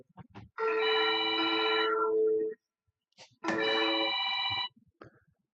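Two telephones ring at a meeting, with two long electronic ringing bursts separated by a short pause and brief low talk and noise around them.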